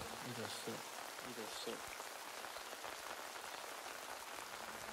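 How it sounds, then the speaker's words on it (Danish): Steady rain patters on a surface in a constant, dense hiss, with a few soft low thumps near the start, heard on its own with no talking. "Alligevel mærker du regnen mod din hud."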